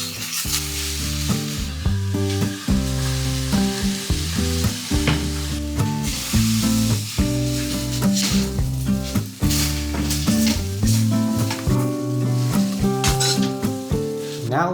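Noodles stir-frying in a pan for Filipino Kanto-style street food, giving a steady sizzle with stirring scrapes that run the whole time under loud background music.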